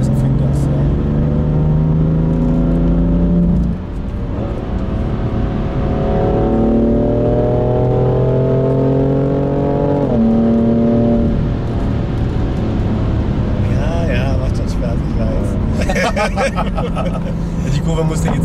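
BMW F82 M4 Competition tuned to 450 hp, heard from inside while driving, its engine note rising through the revs with gear changes, a loud steady drone, while people talk in the cabin.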